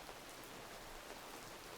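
Steady, even hiss of cold rain falling outdoors on an evening, a continuous broadband wash of drops with no voices.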